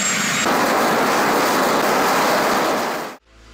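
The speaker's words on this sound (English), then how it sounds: "The first day's goal was a static engine test." The Bloodhound LSR land speed record car's jet engine roars at full power during a static test, a loud, steady, dense blast that holds before cutting off abruptly near the end.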